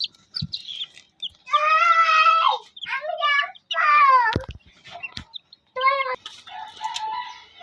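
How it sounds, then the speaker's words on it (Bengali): Baby chicks peep loudly and close by in repeated shrill bursts, with short pauses between the calls. "বাচ্চা মুরগির ছানা দেখুন"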